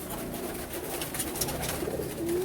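Pigeons at a breeder's loft softly cooing close by, a low murmuring coo repeating over steady ambient noise, with no talk.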